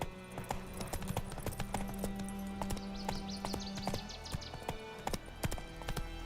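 Roach, the horse in The Witcher 3 video game, clops along with steady, evenly spaced hoofbeats, fairly close and loud, with a brief whinny-like sound partway through.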